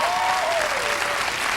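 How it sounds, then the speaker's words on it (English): A studio audience at a 1991 late-night talk show breaks into dense, sustained applause, loud and close throughout, with a voice briefly audible over the clapping. "Show by your applause how many still have faith in Clarence Thomas"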